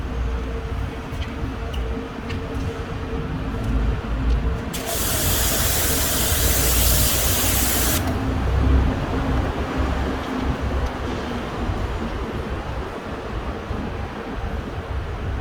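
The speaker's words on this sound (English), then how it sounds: "I'm going to demonstrate to you by using the pressure washer first to spray on it" A pressure washer sprays water onto a car panel in a loud, hissing burst of about three seconds, set against a continuous rumbling background of running equipment.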